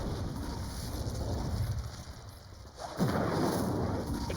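A fire spell cast in the Hogwarts Legacy video game lands as a sudden whooshing burst about three seconds in, rising out of a low rumbling, noisy game ambience and fading into a crackle.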